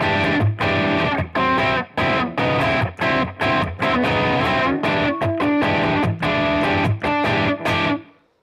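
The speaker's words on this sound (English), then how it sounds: "And Modern Crunch sounds like this" An electric guitar through an X-Gear X-Drive pedal on its Modern Crunch distortion preset plays loud, thick overdriven chords in a choppy rhythm with short gaps between strums, then lets the last chord ring out and fade.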